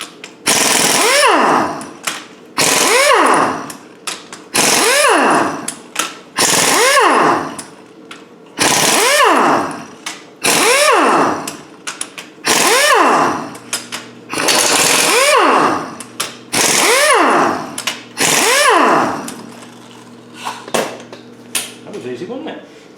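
An impact gun rattles in repeated bursts of about a second each, roughly a dozen in a row, loosening cylinder head bolts on an overheating 300Tdi Land Rover Defender engine. It is loud and close, with short pauses between bursts.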